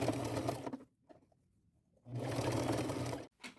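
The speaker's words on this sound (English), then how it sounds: "And I'm using a zigzag stitch," A sewing machine runs a wide zigzag stitch through a jean skirt in two close bursts of steady whirring, separated by a quiet pause.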